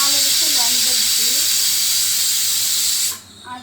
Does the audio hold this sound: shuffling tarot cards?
no